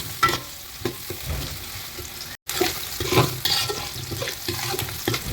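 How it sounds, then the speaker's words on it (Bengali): Chopped onions fry in oil for a home-style chicken korma, a close, continuous sizzle punctuated by repeated scraping stirs in the pan. "পেঁয়াজগুলো একটু ভালো করে ভেজে নিতে হবে, অনেকটা ব্রাউনি কালার করতে হবে।"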